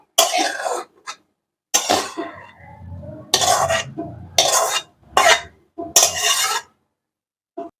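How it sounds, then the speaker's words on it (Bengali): Fried radish with egg is scooped onto a plate in separate scraping, clattering bursts from a utensil against cookware, each burst short and close with quiet gaps between. "মূলা ভাজিটা বেড়ে নিচ্ছি।"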